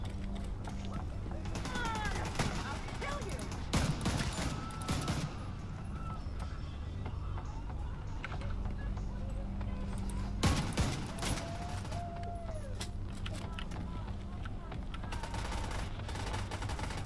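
Gunfire in The Division 2 comes in scattered bursts and single shots with mechanical clicks and clatter, mixed under people talking over the game.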